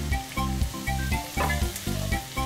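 Noodles stir-frying in a hot pan, giving a loud, steady sizzle right up close, broken by rhythmic tossing and scraping pulses about every half second.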